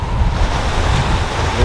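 Ocean surf rolling onto the beach at sunset in Mazatlán, a close, continuous rushing wash of breaking waves with wind buffeting the microphone.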